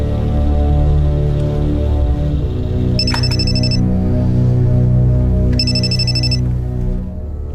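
Two short bursts of a bright electronic phone ring, about three seconds apart, sound over a steady, loud musical background.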